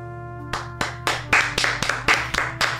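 A single person claps slowly in a dramatic TV show scene, about nine sharp, distinct claps spaced roughly a third of a second apart over a steady low hum, with no talk.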